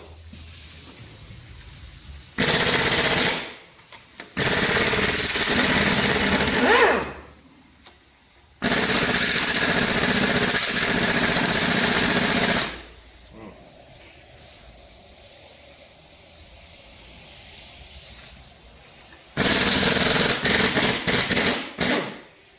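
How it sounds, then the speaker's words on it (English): A noisy air compressor working on a Chevrolet 5.7 liter 350 service truck engine rebuild runs in loud broadband bursts of several seconds each. Quieter gaps separate the bursts, and a final stretch ends in rapid stuttering pulses. "Let's turn the noisy compressor back on."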